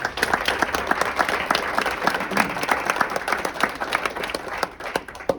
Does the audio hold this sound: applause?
yes